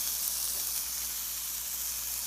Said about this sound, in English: Let's get you up close on that sizzle action with that sausage.